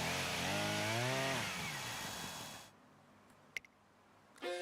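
Loud, steady buzzing whine of a chainsaw in the Umamusume Pretty Derby game, wavering in pitch for nearly three seconds, then cutting off to near silence broken by a couple of faint clicks and a final rising noise.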